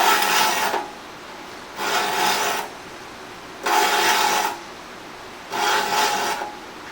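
Hand file sharpening the teeth of a saw held in a vise, four separate rasping strokes of about a second each with short pauses between, close and fairly loud.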